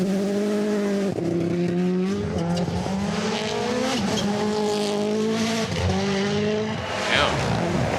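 Rally cars race flat out on a Rally Latvia 2024 stage, engines screaming and rising and falling through rapid gear shifts with tire noise, loud and close, over a roaring, constant background.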